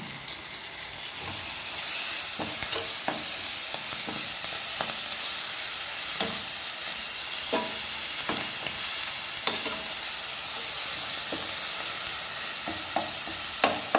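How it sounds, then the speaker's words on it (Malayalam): Onions and rice made with sardine roe fry in a pan, a steady close sizzle and hiss running throughout while a spoon scrapes and stirs in irregular strokes. No one talks. "നന്നായിട്ടൊന്ന് ഉടച്ചു കൊടുത്ത് മിക്സ് ചെയ്യണം"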